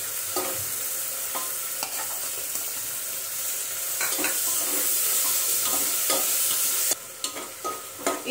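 Chopped tomato and onions sizzle steadily in a hot pan, with a spoon stirring and scraping in occasional clicks and knocks over the constant frying hiss.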